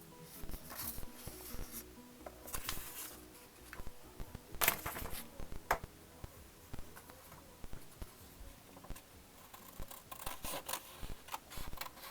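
Scissors cutting fabric along a small curve while transforming a skirt, a faint, close run of crisp snips and rustles scattered irregularly, with one sharper snip near the middle.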